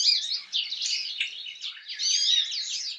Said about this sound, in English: Goldfinches often sing as they fly.